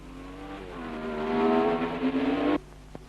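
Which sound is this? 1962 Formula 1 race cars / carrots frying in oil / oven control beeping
1962 Formula 1 race cars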